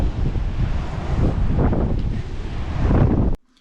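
Strong wind on the Lake District fells buffets the microphone in loud, continuous gusts with a deep roar, cutting off abruptly at the end.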